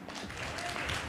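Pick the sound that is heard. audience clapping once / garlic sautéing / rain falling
audience clapping once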